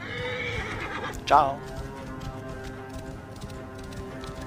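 A horse neighs loudly in Assassin's Creed Origins, one sharp whinny with hoof clip-clop and game ambience running beneath it, while someone talks over the scene.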